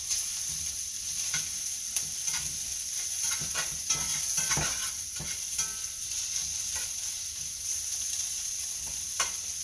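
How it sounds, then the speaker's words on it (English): Onions sizzle and brown in a hot pan, with a steady soft hiss punctuated by repeated spatter pops and stirring scrapes, fairly quiet and close. "Onions are starting to brown up really nicely."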